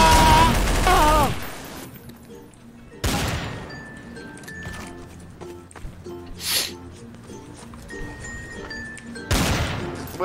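Sniper gunfire in a first-person video game, several sharp, loud shots spaced seconds apart, each a sudden crack with a short tail, amid game background noise and occasional voices.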